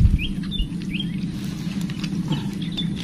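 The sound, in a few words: rain falling during fishing trip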